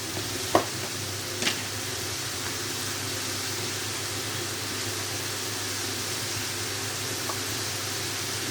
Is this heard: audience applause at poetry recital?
no